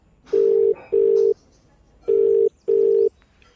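Four loud, steady telephone tones, each about half a second long, in a regular on-off pattern, like a call being dialed and connecting to the next caller.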